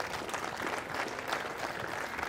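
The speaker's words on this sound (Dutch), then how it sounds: "Graag een heel hartelijk applaus voor de heer Sels en Van der Honert." An audience gives warm applause for the runners-up at a bridge tournament, a continuous dense patter of clapping from many hands at moderate volume throughout.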